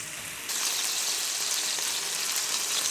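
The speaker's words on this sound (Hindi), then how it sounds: "हम इसको फ्राई कर लेंगे।" Chicken shashlik sticks frying in a pan, a steady bright sizzle that jumps louder after a moment and holds dense and close.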